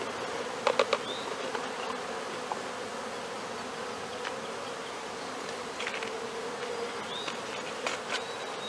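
Honeybees buzz steadily in a bucket beside the hive, a close continuous hum with a few sharper individual bee passes flicking in and out, no voices.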